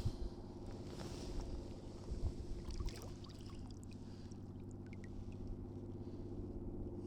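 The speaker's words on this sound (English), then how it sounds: "If that isn't the sound of Maine, I don't know what is, with the lobster boat in the background." A lobster boat's diesel engine hauling traps on a misty, wet winter day off the Maine coast drones as a low, steady, faint rumble in the distance, with light wind on the microphone.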